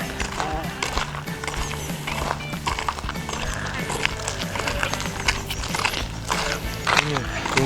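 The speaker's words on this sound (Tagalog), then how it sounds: "Tingnan nyo, may mga horse kami dito." Horses on a rural farm outside a Finnish city clop their hooves in an uneven, close rhythm, with a short whinny amid the steps, while someone talks over them.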